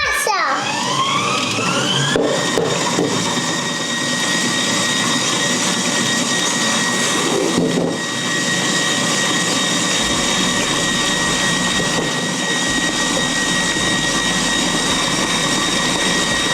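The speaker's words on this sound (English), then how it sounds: "We're going to do 4 eggs, but we've got to add them one at a time and just carry on whisking." An electric whisk beats eggs into pound cake batter, producing a loud, steady motor whine that starts abruptly, holds throughout and briefly dips near the middle.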